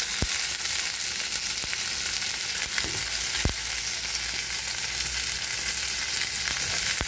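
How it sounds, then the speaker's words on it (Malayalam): Ginger frying in a pan with ginger-garlic paste for egg masala: a constant bright sizzle with occasional scrapes of a spoon stirring, close and steady, with no talk. "ഇഞ്ചിയാണ് നമ്മൾ ഇട്ട് കൊടുക്കാൻ പോകുന്നത്. നന്നായി കലക്കി കൊടുക്കാം."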